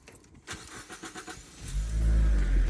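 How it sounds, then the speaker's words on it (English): A Mazda Miata towing a load, its engine pulling with a low, rising drone that swells and grows louder toward the end after some lighter rattling sounds at the start. "The Miata may not be a torque monster, but it'll do."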